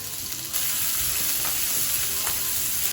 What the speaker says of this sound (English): We're gonna add a touch of oil. And we're going to add in our onions and cook for 3 to 5 minutes